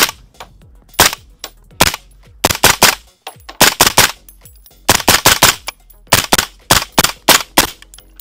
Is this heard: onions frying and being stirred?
no